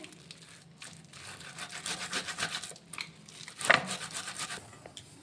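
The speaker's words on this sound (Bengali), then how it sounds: "এই যে যেটা দিয়ে আমরা আদা ঘষে টষে নিই, এই কুড়ানি, এটা দিয়ে ভালো করে খুব সুন্দর হয়।" Ripe toddy palm fruit pulp scraped on a hand grater of the kind used for ginger, making repeated rasping, scratchy strokes at close range, with a few louder scrapes near the end and no talking.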